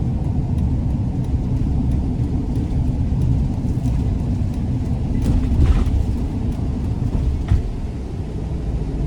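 A 2014 Mercedes-Benz Sprinter 2500 conversion van's engine pulls hard as it accelerates onto the interstate, a loud, steady low rumble with road and wind noise building throughout.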